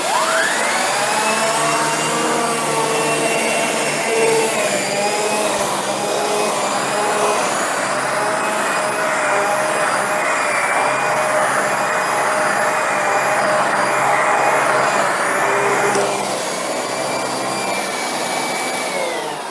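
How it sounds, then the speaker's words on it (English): A Shark Rotator Lift-Away NV682 vacuum running its pet power brush over carpet gives a loud, steady whining roar with shifting pitch as it is pushed back and forth, no voices. "Now we're going to see how the pet power brush performs."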